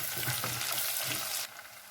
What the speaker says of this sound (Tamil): பச்சை மிளகாய் 2 கீழே வச்சுட்டு போட்டுக்கிறேங்க.